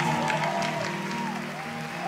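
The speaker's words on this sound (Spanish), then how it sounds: "Un aplauso." A studio audience at a children's singing competition show claps in steady applause, with a faint sung or spoken tone drifting over the dense patter.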